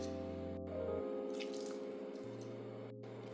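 A small splash of white wine poured into a crockpot for steak with chimichurri flavor, a brief liquid trickle with drips over a steady low background hum.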